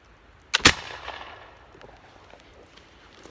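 A flintlock gun fires once into a tree outdoors, a single sharp, loud crack followed by a short fading rumble and quiet ambience afterward.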